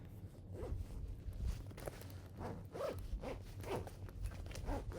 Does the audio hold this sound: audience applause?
no